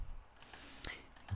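A few faint, quick mouse clicks while saving in Autodesk Inventor sheet-metal design software, light taps scattered over a quiet room background.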